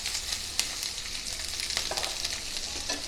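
Small onions frying in oil for a Tamil chicken gravy, a steady bright sizzle running throughout with occasional stirring clicks and spatters, close and moderately loud, no talking.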